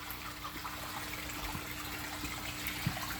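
Water from a pool filter hose trickles and splashes steadily on a cold winter day near frozen ponds, with a low constant flow and a few small louder splashes.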